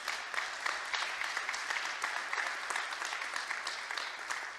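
An audience in the Mexican Senate gives sustained applause to the panelists at a forum on a national civil and family procedure code, a fairly soft, even roar of many hands clapping with no talk over it.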